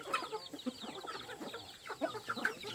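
Chickens cluck and chatter softly at close range while being fed, a busy flock making irregular short calls at a low, quiet level.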